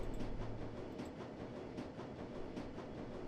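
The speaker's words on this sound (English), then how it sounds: "the train rumbles its way towards Brandenburger Tor" Underground U-Bahn train in Shadowrun: Dragonfall rumbling steadily along the track toward Brandenburger Tor, a low continuous drone with faint rhythmic clicks of the wheels, alone and fairly quiet.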